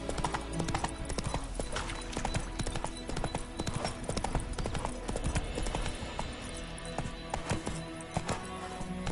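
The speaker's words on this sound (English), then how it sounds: "Run, Roach." Horse hooves gallop in The Witcher 3 game, a rapid, steady clip-clop rhythm, close and continuous, with faint background sound.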